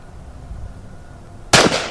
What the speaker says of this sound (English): Now once you touch that trigger, once the safety goes off, it will fire.